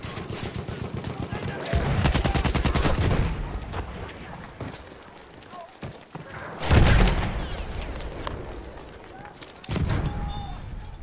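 Machine gun fire in the video game Battlefield 1 comes in several dense rapid bursts with a pause between them, layered with other gunshots and battle noise, while players talk over the action.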